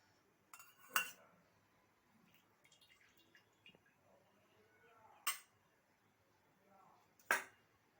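Oil is spooned into a cooking pan, three spoonfuls, for a pumpkin-greens dish: three sharp metallic clinks spaced a few seconds apart, with faint drips and small kitchen noises between, quiet and close.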